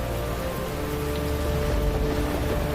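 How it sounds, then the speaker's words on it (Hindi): Heavy rain pours down over a town in a dense, unbroken hiss, loud and steady throughout with no voices. "कुछ ही देर में नगर में भयंकर वर्षा शुरू हो गई।"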